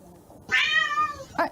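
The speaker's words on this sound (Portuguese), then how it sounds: "Vocês ouviram o miado, gente?" A black cat gives one clear, drawn-out meow close by, followed by a short second chirp, with a quiet background.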